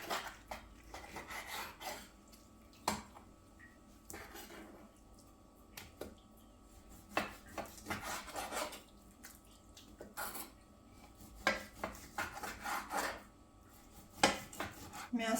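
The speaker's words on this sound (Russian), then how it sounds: "Для начала мы поделим мясо." Fresh meat is cut into pieces on a board in a home kitchen, giving faint, irregular knife taps and scraping with clinks of dishes and occasional water drips.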